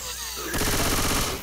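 Rapid gunfire in Left 4 Dead 2's Dark Carnival, bursting in loudly midway after a quieter start and rattling on as a dense, continuous volley to the end.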